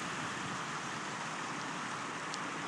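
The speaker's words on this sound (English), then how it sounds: "you can see the beautiful rushing water" Rushing water of the Euclid Creek waterfall in Euclid Creek Reservation, a steady broadband roar of flowing water, continuous and fairly close, with no voices.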